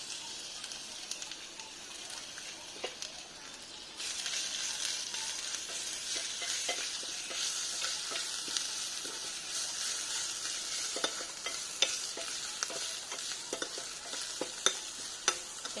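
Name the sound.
ginger paste, bay leaf and dried chili frying in pan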